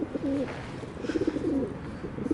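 Pigeons cooing nearby in a series of soft, throaty, repeated coos, loud and clear with no talk over them.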